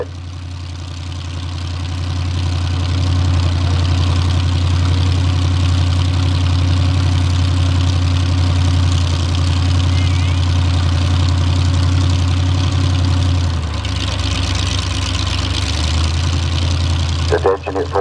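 A competition pulling tractor's engine idles with a loud, steady low rumble at close range as the machine edges forward on the track, the pitch dropping briefly near the end, with talking over it.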